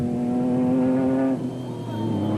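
Off-road race car at speed in a desert championship race in South Africa, its engine holding a loud, steady high-revving harmonic note that then drops in pitch as it passes, continuous and close with no talk.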